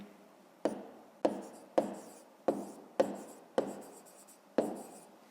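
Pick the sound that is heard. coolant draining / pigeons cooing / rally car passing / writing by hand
writing by hand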